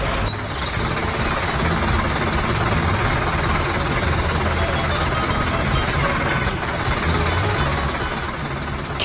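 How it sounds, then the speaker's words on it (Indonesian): Chainsaw cutting through a wooden block in an animated farm scene: a loud, unbroken motor drone that holds steady for the whole stretch, with no pauses and no voices. "Mesin gergaji sedang memotong blok kayu dengan sangat fokus."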